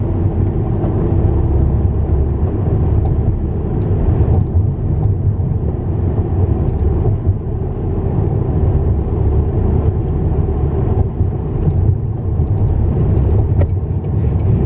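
A car drives along 20th Street in a city, its steady low road and engine rumble loud and continuous throughout with no pauses.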